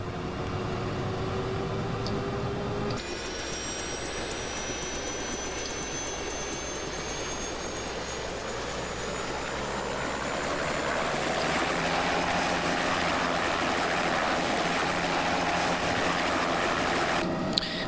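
Bell 407 helicopter turbine spooling up in a flight simulator, a steady jet-like whine and rush that climbs and thickens over several seconds, rising tones building continuously without talk.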